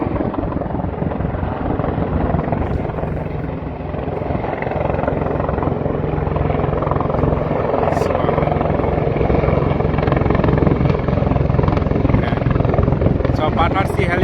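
A helicopter at Battersea Heliport in London makes a loud, continuous rotor drone with gusty wind buffeting the microphone, and a person talks over it.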